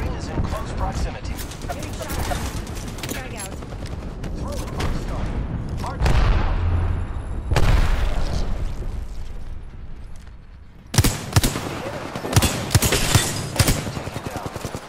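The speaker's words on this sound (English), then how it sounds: "There is an airstrike on our position." Airstrike blasts in Apex Legends as booming explosions and bursts of gunfire strike in clusters, loud and close, with a tense spoken voice over the chaos.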